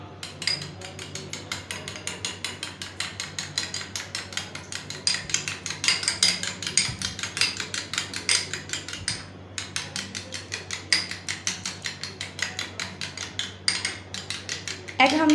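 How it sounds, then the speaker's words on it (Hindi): Eggs whisked in a bowl for ras malai, a fast, steady run of light clinking taps from the whisk against the bowl that continues throughout, close and fairly loud. "अब हम एग को फेंट लेते हैं।"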